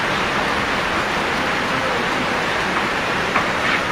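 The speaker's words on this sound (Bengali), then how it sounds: "প্রচুর বৃষ্টিপাত হচ্ছে, বৃষ্টি হচ্ছে" Heavy rain pouring down in front of a house in Chandpur, a dense continuous roar of falling water, loud and steady with no talk.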